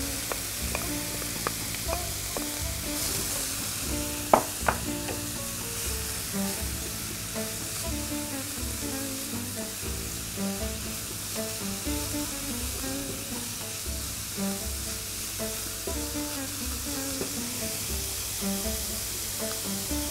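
Carrots go into a hot pan and sizzle steadily, a dense continuous frying hiss with brief stirring clatter near the start, in a home kitchen preparing a vegetable and minced meat filling for stuffed Moroccan-style flatbread.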